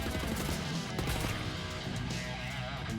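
Gunfire in Wolfenstein The New Order on Über difficulty, rapid close shots and crashing impacts packed into a loud, continuous clatter of combat noise.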